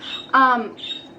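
Birds squawk nearby, one loud harsh squawk in the middle of a short moment with quieter chirps around it, heard indoors in a casual setting.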